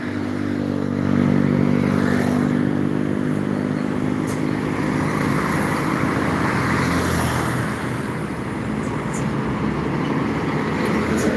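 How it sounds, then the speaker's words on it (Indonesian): A truck turns around at a roundabout in early morning traffic, its engine a steady low rumble with a faint pitch shift early on, mixed with passing road noise throughout. "Truk putar kepala di bundaran."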